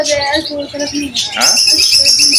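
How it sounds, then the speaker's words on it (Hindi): Many caged birds chirp and tweet inside a bird market shop in Madina, loud overlapping calls with repeated cooing from pigeons or doves and someone speaking in between. "ये दुकान के अंदर जो है तमाम परिंदे हैं।"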